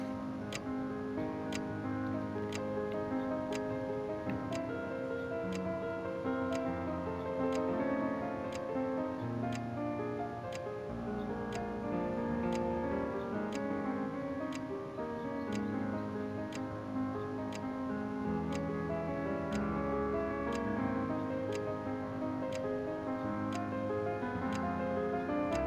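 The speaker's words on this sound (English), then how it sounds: "Lulled by the ticking of the clock" A clock in the video game Witch on the Holy Night ticks evenly about once a second for the whole stretch, over quiet soft background music.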